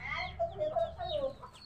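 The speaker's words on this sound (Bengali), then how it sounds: "ওনাদের বাড়িতে অনেক দেশি মুরগি আছে" Free-ranging Bangladeshi desi chickens kept at a village home cluck and squawk in short, irregular calls close by, with a faint background murmur.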